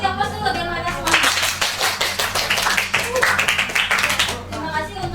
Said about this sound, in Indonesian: Kasih aplaus dulu biar mereka semangat.